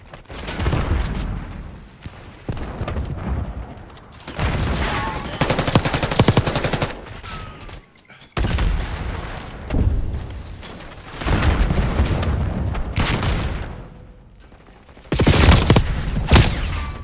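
Rapid bursts of automatic gunfire from Call of Duty Black Ops 6 multiplayer, coming in repeated loud volleys with short lulls between and a few booming impacts mixed in.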